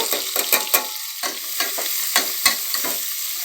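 Onion and capsicum fry in oil with mustard seeds and cumin while being stirred for bele sambar, giving a steady loud sizzle broken by repeated scraping stir strokes, with no voices.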